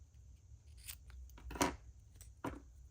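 Scissors cut a paper tag in a few quiet, close snips. Two sharper cuts stand out among softer ones, over a faint background hum, and no one speaks.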